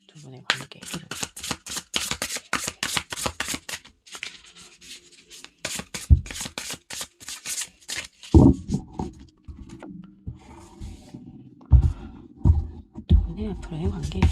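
Tarot cards are shuffled in quick, crisp riffles up close, then drawn and laid down with soft slaps during a love reading, while someone talks over the later part.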